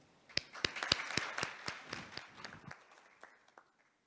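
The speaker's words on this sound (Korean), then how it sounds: "위원장님께 뜨거운 박수 부탁드립니다" Applause rises from the audience at an international heritage forum on the Baekje Historic Areas as the discussion moderator is introduced, scattered sharp claps that build and then thin out and fade over about four seconds.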